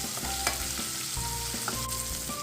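Peanuts fry in a pan over a low flame for chutney, giving a steady close sizzle with light stirring and scraping and no talk.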